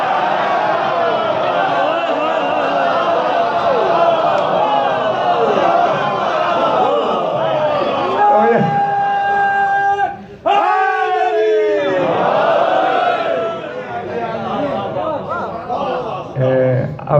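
Crowd chanting slogans at a religious gathering during a Ramzan majlis, loud massed voices in rhythmic bursts, with a short break partway before the chanting resumes.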